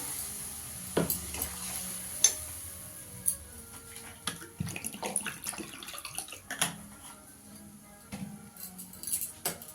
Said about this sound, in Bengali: মিক্সির বাটিটা দিয়ে একটু জল দিয়ে দেবো।